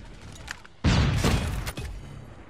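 Gunshots in Call of Duty Mobile: one loud, heavy report hits abruptly, followed by a few quieter shots and a fading tail.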